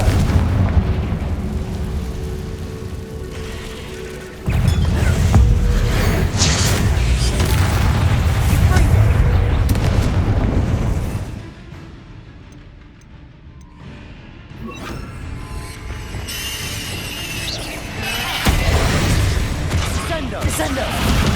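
Confringo fire spell explosions in the PS5 game Hogwarts Legacy inside the Feldcroft Catacomb dungeon, loud booming blasts and rumbling bursts that ease into a quieter lull before the din returns.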